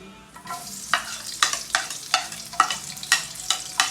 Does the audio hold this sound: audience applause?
no